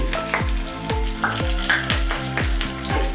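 Crushed garlic, curry leaves and three split Guntur red chilies spluttering in hot oil for a tempering for Maharashtrian varan dal, close and crackling, with a series of sharp pops and a spoon stirring rhythmically.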